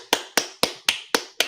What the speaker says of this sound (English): Get that man some claps.